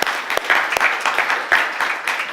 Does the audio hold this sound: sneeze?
no